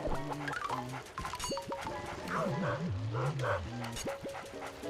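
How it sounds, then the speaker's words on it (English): Cartoonish dog barking and yapping from the ghost dog in the video game Luigi's Mansion, repeated rhythmic yips layered over game music, fairly loud and continuous. "You gotta lure him over this way so he starts barking and roaring."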